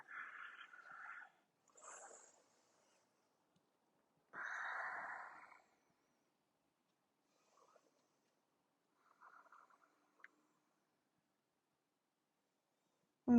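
A person breathes audibly while holding a standing yoga forward fold, with a few separate breaths and sharp nasal exhales spaced out by near silence and heard up close in a quiet room.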